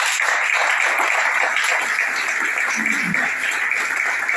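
A church congregation in Libreville, Gabon, applauding the Lord in worship, with a dense, sustained wash of many hands clapping at steady loudness throughout.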